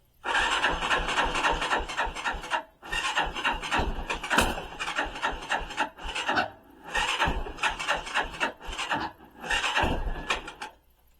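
A 250cc Chinese quad bike being cranked with the choke on, loud rasping bursts of turning over, separated by short pauses, with no clear catch and steady run.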